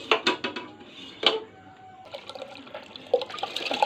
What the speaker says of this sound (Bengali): চালটা এখন দিয়ে দিলাম